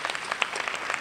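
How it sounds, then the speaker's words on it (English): An audience claps in a short burst, the scattered individual claps slightly distant and moderately loud over about a second. "We have a, clap for that."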